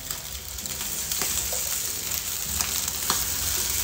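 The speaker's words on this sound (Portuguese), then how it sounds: "croquetinhos aqui de frango pra corar de todos os lados" Chicken meatballs (tsukune) fry in a pan, a continuous close sizzle with occasional soft knocks and stirring touches as they are turned, with no talking.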